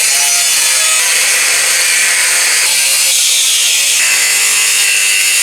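A hole saw grinds steadily through a metal exhaust tube near the manifold, a loud, harsh, continuous cutting whine close by with no pauses.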